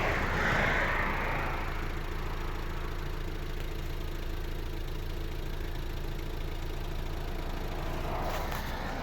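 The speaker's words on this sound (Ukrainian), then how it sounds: "Вихлоп солодкуватий дизельний." The diesel engine of a 2012 Volvo V50 idles steadily and evenly, a low continuous rumble with faint clatter that barely changes from start to finish.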